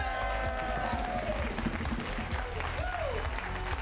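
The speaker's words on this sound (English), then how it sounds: "Give a big round of applause to the Curious Comedy players." An audience at an improv comedy show gives a big round of applause to the players, with cheering, a tonal musical sweep and voices mixed into the sustained clapping.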